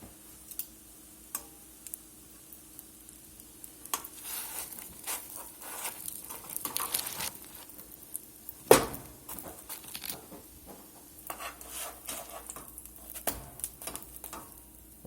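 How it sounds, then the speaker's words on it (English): Crab cakes frying in a pan while being turned, with light crackling and spitting oil, scattered ticks and pops, and one sharp clatter midway. "Let's go turn these crab cakes."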